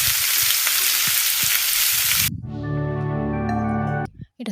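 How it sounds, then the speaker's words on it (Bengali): Nine or ten dried red chillies fry in hot mustard oil for a kachki shutki bhorta, giving a loud, dense, steady sizzle for about two seconds before it cuts abruptly to a sustained tonal, harmonic passage with no frying heard. "একটু শুকনো লঙ্কাটা একটু ভালোভাবে ভেজে নেব"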